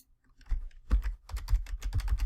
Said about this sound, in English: Here, I'll type it out so you can see it.